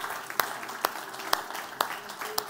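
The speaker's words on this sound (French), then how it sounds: "Est-ce qu'on peut donner une acclamation à Jésus?" Church congregation applauding in worship, sharp irregular claps standing out over a light, steady spread of hands, moderately close and without talk.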